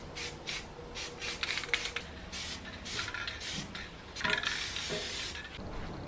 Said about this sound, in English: Paint burnt a little bit on the outside, so I'm just going to scrape that off